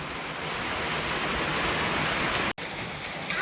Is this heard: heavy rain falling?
yes